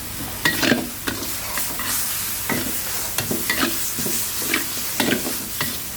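Minced pork stir-frying with chili, kaffir lime leaves and holy basil in a hot pan, giving a steady loud sizzle broken by repeated scraping stirs of a spatula, close up and without talk.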